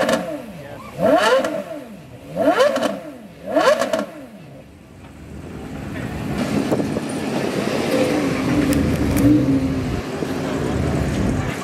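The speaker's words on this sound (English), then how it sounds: "I never get bored of the note of the GTR." Nissan GT-R engine revving hard in three sharp, rising bursts with a loud exhaust note, then a steadier rumbling drive with broadband roar.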